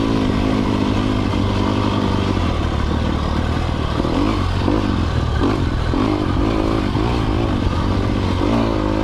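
A 2020 Sherco 300 SEF Factory motorcycle is ridden close by, its engine holding a steady rough drone with clattering and scraping underneath and some mild throttle swells.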